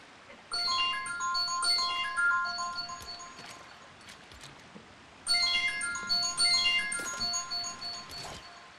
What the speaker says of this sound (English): My wife's phone just went off.